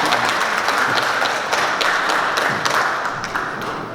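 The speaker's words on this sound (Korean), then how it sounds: "큰 박수로" Steady applause from a lecture audience at a Korean future-knowledge forum study meeting, continuous and fairly close, with dense clapping holding at an even level throughout and no talk over it.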